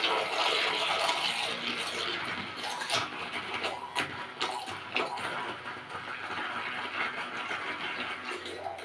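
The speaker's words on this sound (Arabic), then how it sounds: "هنزل بقى بالهاند بلندر بتاعي كده ونضرب الحاجات دي الجميله دي كده مع بعض" A hand blender purées soaked fenugreek and rice into a wet paste, giving a close, churning, sloshing buzz that pulses irregularly as the blender is moved through the mixture.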